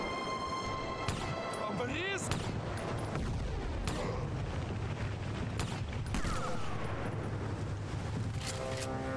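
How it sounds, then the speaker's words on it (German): Enemy gunfire in the Sniper Elite video game, sharp shots cracking repeatedly through a dense, loud battle soundscape with booms and rumble beneath, while someone talks over it. "da schießt der Penner"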